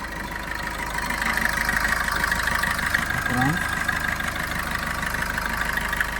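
Diesel engine of a 2017 Maruti Suzuki Vitara Brezza ZDI+ idling, a steady even hum and rumble close by that holds through the clip, with someone talking over it.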